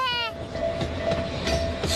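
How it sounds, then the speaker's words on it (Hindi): Mini train running through a park in a cartoon scene, heard as a steady rolling rumble with a short horn-like tone at the start and a faint sustained whistle under voices. "मिनी ट्रेन भी चलती है इस पार्क में।"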